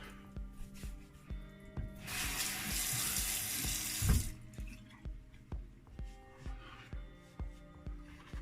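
Running tap water splashes into a sink for a quick rinse during a wet shave, a steady broadband gush lasting about two seconds, surrounded by softer drips and handling knocks.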